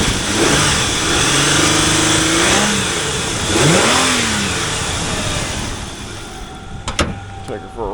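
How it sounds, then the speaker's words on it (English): A 1999 Isuzu Trooper with the 3.5L direct-injection V6 revs up close, its engine note sweeping up and down several times, then settling before a few sharp clicks and knocks at the end. "It's got that old direct injection V6."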